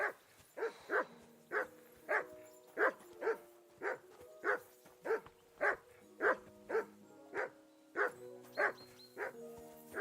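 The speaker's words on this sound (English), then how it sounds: "Call that dog, Henry. Who the hell can listen to that?" A dog in Kingdom Come: Deliverance 2 barks over and over in a steady rhythm, roughly two barks a second, mid-distance and fairly loud against a quiet game backdrop, with faint low tones underneath.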